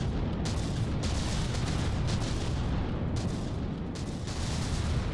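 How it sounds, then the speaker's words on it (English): Mortar shells pound a warship in the naval combat game From the Depths, a dense, continuous barrage of booming impacts and rumbling blasts layered thickly and loudly with no talk over it. "The mortars hit something."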